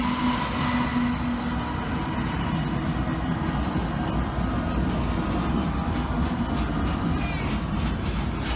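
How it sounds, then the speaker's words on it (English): A freight train led by a Norfolk Southern locomotive, with CP SD70ACU and ES44AC units in the consist, rolls past with a loud, continuous rumble and rattle of wheels and cars that holds steady throughout. "NS-9 9473 leads the train."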